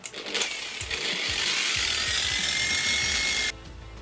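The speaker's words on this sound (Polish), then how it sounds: "Najpierw szlifierka, czyli y, e, szczotka druciana na szlifierce nierdzewna i czyścimy" An angle grinder fitted with a stainless steel wire brush whirs at high speed with a harsh abrasive scrape as it cleans metal air-conditioning pipes, loud and steady, then cutting off abruptly.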